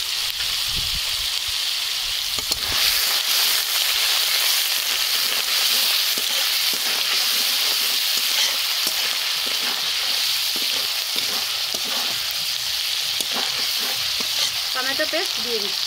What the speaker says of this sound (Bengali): কারণ আদাটা খুব ছিটকাচ্ছে